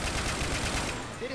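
Dense rapid gunfire in Left 4 Dead 2, a continuous loud barrage of overlapping shots with a voice over it near the end.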